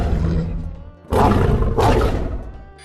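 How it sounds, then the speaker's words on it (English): Gemini, a wolf hero in the video game Heroes of Newerth, lets out two loud, close, rough growling snarls back to back, each lasting about half a second, over a deep rumbling undertone. "the base Gemini hero doesn't have any voice lines, instead opting for a series of growling, howling, and other general wolf sounds"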